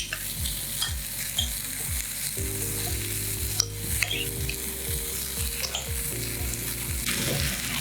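Food for Parmesan cheese cups sizzles loudly in a pan while a utensil stirs it, producing steady frying hiss with repeated scraping strokes close up.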